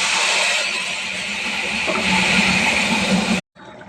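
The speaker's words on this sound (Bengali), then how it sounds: "ভাজা হয়ে গেছে, এবার আমি তড়কার ডালটা ঢেলে দেব।" Tadka dal poured into a hot pan of fried onion, chilli and garlic gives a loud, continuous hissing sizzle that holds steady for a few seconds, then cuts off abruptly.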